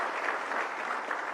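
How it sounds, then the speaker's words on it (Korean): An audience at a Korean political speaking event applauds continuously, a dense, even wash of clapping from many hands with no talk over it. "박수 부탁드립니다."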